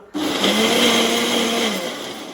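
A blender whirs through a strawberry drink, starting suddenly and holding a loud, close, high-pitched motor whine with a slight pitch sag as it churns.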